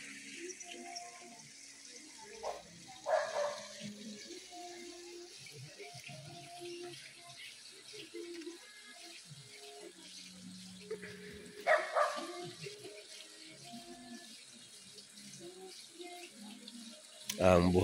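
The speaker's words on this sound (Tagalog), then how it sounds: "Ang napakagandang ilog po." Steady rushing hiss of a lively river flowing, faint and continuous, with a few brief louder bumps and splashes rising above the wash.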